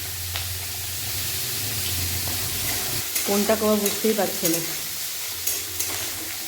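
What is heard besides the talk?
potatoes frying in a pan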